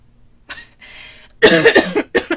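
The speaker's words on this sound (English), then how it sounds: "I feel like every time I try to laugh now, I just cough." A short burst of harsh coughing, several rapid coughs in a row after a couple of softer breathy hacks, close to the mic.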